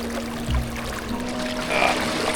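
A Scottish Highlands river flows over slippery rocks with a steady, close rushing wash, swelling slightly toward the end, with no voices.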